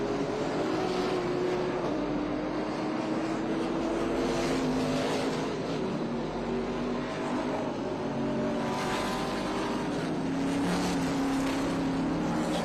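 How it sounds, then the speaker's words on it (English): A gas late-model stock car with a big engine racing at Portland International Raceway, its loud steady engine roar with shifting pitch as it runs through a chicane, continuous and fairly close. "This is kind of a gas stock car, late model car with a big engine"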